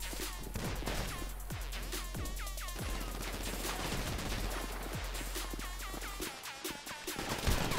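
Rapid bursts of GTA V gunfire crackle nonstop, sharp shots and ricochet-like chirps layered with low booms, dense and loud before briefly thinning at the end.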